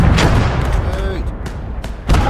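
A tank cannon fires in the WWII strategy game Gates of Hell Ostfront: loud booming blasts with a sharp crack and lingering rumble, the second shot hitting near the end, amid battlefield noise.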